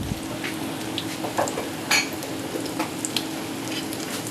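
Chicken shami kababs fry in a pan with a steady close-up sizzle, broken by a few sharp clinks of a utensil against the pan.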